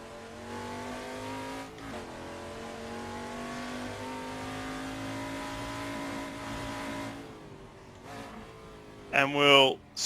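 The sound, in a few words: Ford Falcon Group C touring car driving into pit lane, Assetto Corsa video game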